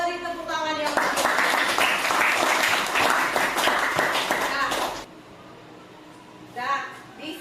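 Children in a classroom break into lively applause that lasts about four seconds of dense clapping, then it stops and a voice talks.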